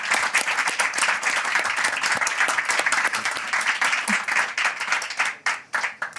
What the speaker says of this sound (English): can I have a round of applause for the very disciplined and good speakers?